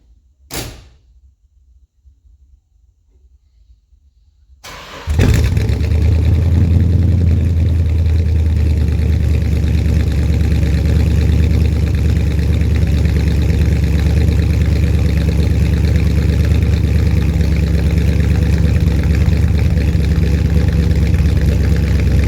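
A 1966 Dodge Monaco with a 440 V8 cranks briefly after a quiet stretch, fires up abruptly, and settles into a loud, steady, rumbling idle that continues to the end.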